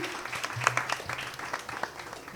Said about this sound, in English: Round of applause for Team C.